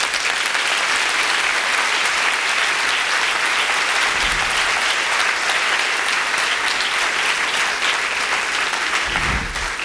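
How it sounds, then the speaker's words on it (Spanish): Church congregation applauding God during a Spanish-language sermon: a dense, continuous wash of many hands clapping, loud and even throughout with no talk over it. "le podemos dar un aplauso a Dios por eso"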